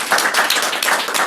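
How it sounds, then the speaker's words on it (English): Dense, steady round of applause from an audience at a talk on lean design and construction, many hands clapping together without a break, close and loud throughout. "So please give her a big round of applause."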